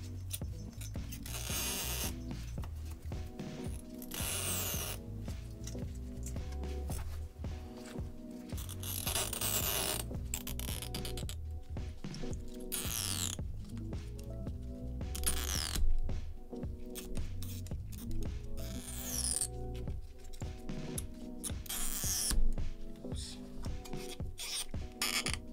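Battery adhesive pull tabs being peeled out of a 16-inch MacBook Pro, heard as quiet, repeated rasping and scraping strokes spread over about twenty-five seconds with brief pauses.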